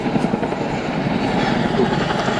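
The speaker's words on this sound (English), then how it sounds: "I've never seen a helicopter do anything like that" A helicopter performing at an airshow, its rotor and engine making a loud, steady throbbing drone that fills the whole stretch without a break.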